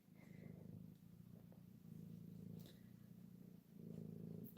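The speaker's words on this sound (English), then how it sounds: "Purring. Purring away." A cat purrs softly and steadily at close range in a quiet room, the low rumbling rhythm continuing without pause.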